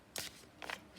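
A tarot card deck being shuffled, two quick riffling bursts of cards, close and fairly faint, with quiet room tone in between.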